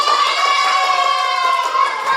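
Schoolchildren cheer for the winning group in a classroom contest, a loud, sustained chorus of young voices shouting together, with faint clapping mixed in.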